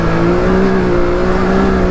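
A Can-Am X3 side-by-side with four-wheel drive engaged pulls at full throttle, its engine droning loud and close in a steady, sustained roar with no voices.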